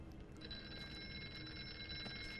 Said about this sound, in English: Where's the phone ringing?